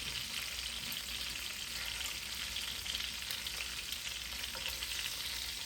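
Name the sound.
pork tenderloin frying in a pan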